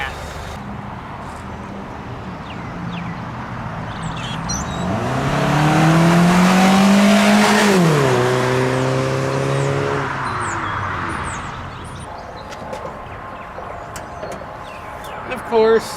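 A Pontiac Vibe fitted with an HPS performance intake makes a quick pass, its engine revving up in a rising, then falling drone that builds loud near the middle before easing off; wind and background noise surround it, no one speaking.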